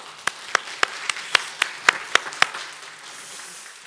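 Scattered hand claps from a small church congregation ring out in a loose, uneven burst of about ten sharp claps, then fade into quiet room tone.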